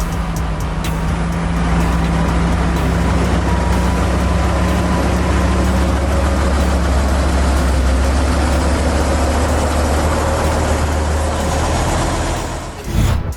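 The heavy engine of a Tatra 815 off-road truck rumbles deep and steady up close, holding a constant low drone before it cuts off abruptly at the end.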